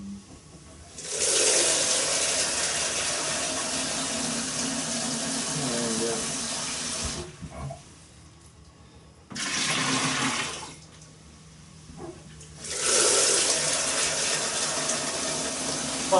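A kitchen tap runs in loud bursts as water fills a container for cider making, with the gushing flow starting and stopping several times, separated by quieter pauses that carry faint background sounds.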